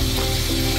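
Fish, a tilefish, pan-frying skin-side down in oil over high heat, giving a steady, close, continuous sizzle with a low hum underneath and no talking.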